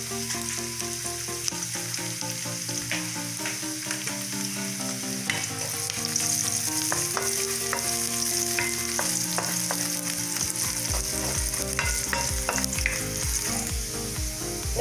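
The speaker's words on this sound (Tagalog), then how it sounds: "Next thing lagay is ang bawang. Bawang. Halo-haloin lang natin hanggang sa ma-brown ng konti." Garlic sautéing in a pan for ginataang tilapia sizzles steadily and loudly while being stirred until lightly browned, with quick scraping strokes over the continuous frying hiss.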